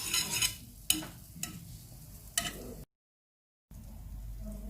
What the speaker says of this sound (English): melt the butter in it